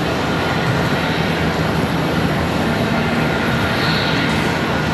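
A Contour Airlines ERJ regional jet at Charlotte Douglas airport sends out a steady, loud broadband roar that holds constant without a break, with a faint high whine layered over it.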